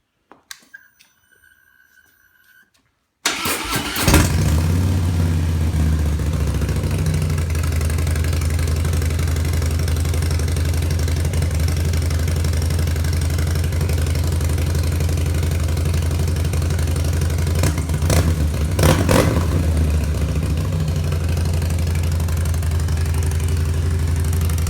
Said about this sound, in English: I did use a Vance & Hines FP3 and tune it after the install, and it definitely sounds like a bike now